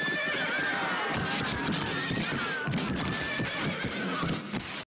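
Horses neigh and whinny loudly and repeatedly, close by, with hooves clopping underneath and no talking.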